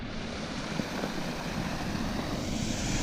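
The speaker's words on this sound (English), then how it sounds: "That's definitely a plane." A plane flies overhead while people explore a snowy outdoor area, a steady broad engine drone holding constant and fairly loud throughout, with no talk.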